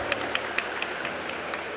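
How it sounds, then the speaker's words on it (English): Applause from a crowd at a 2017 Caribbean Insurance Limited health and wellness expo, a brief steady patter of clapping with a few sharper individual claps standing out. "I want everyone to give Caribbean Insurance Limited a round of applause at this time"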